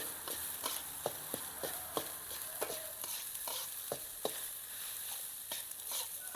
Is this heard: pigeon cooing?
no